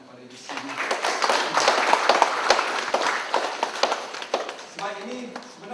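Applause from an audience at a university ceremony, a USIM document launch and handover event, dense clapping that swells and holds for several seconds before tapering, with some voices mixed in.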